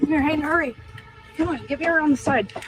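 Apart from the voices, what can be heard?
No everyday noise stands out behind the speech.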